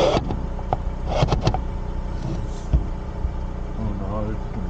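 A car drives along at night with a steady low engine hum and road rumble, while people talk over it throughout.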